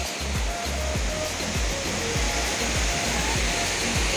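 Mukhipata waterfall at Manikera, Rampur, Kalahandi, a steady broadband roar of falling water that fills the whole stretch without a break, close and constant, with no voices heard.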